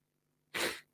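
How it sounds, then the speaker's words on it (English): A single sneeze from a person with a cold, a sharp breathy burst that swells suddenly and fades within about half a second, fairly close and loud against near silence. "I'm going to sneeze again"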